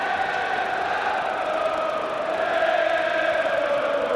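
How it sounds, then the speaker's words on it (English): Dense stadium crowd at a Liverpool v Manchester United football match in 2006, a steady roaring wash of massed voices with rising swells, loud and continuous without a clear break. "Listen to the crowd now"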